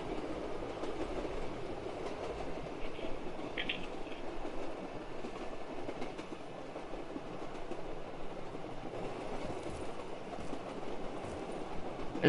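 Rumbling train motion in a zombies video game, a steady continuous rolling drone with faint clatter, running loud and even throughout with no voices.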